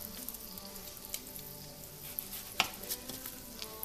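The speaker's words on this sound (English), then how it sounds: "let those start sizzling away" Apple-dough donut bites frying in hot oil, giving a faint, steady sizzle with scattered small pops and crackles. No voices are heard.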